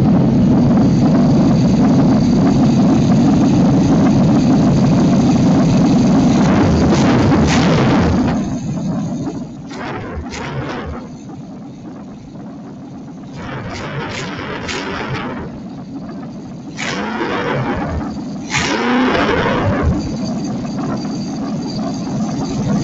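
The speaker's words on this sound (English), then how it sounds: "First, I'll throttle the engine so you can see what's going on down inside there" An engine with its fuel system exposed runs at a steady, rough idle close to the microphone, then its rumble drops back and several throttle blips rise and fall in the second half.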